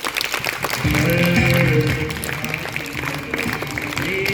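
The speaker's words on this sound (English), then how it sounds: "Clap for them." Students clap for the fourth-place team at a summer camp prize ceremony, a dense, sustained round of applause mixed with a tonal musical background and some voices in the hall.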